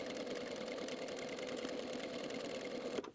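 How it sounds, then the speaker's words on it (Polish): A sewing machine stitching a second seam using size 20 thread and a size 130 needle, with a fast, steady mechanical whir that runs continuously and stops near the end. "Teraz wykonałem drugie przeszycie."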